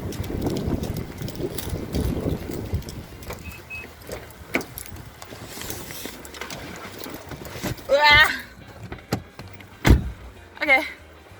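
Getting into a car on a rainy day brings rustling movement, a door thump and clicks of mechanisms inside the cabin, with a voice speaking between the sounds.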